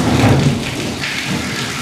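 Thunder from a lightning strike in the video game Dead Space: a loud, close, crackling rumble that fills the short moment with no voices over it.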